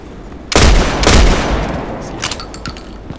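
Gunfire in the online shooter Contract Wars, two loud, close bursts of shots in quick succession followed by a few fainter, sharper cracks and clicks fading out.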